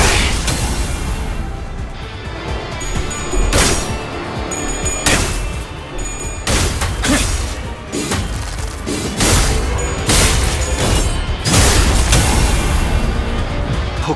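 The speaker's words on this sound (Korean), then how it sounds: "폭죽 소리가 들리는 것 같군" Firecracker bursts in the video game Limbus Company pop and crack in a dense, loud barrage, sharp repeated explosions overlapping with a continuous rumbling wash behind them.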